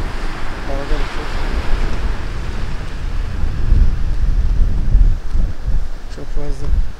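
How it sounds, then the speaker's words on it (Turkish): Sea waves break and wind buffets on a beach along the shore, a loud, rumbling roar with surging swells, while a voice speaks faintly now and then. "Dalga çok."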